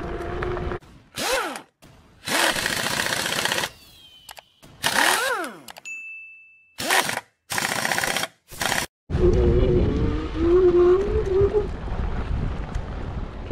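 A Kugoo G2 Pro electric scooter riding off-road around a reservoir, with choppy bursts of rough rumbling and rattle broken by gaps, then a steady loud roar of wind and motor near the end.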